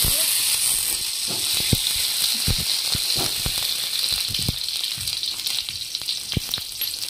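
Tomato sizzling in about half a teaspoon of hot oil in a pan, a steady, close frying hiss with scattered small pops and crackles throughout.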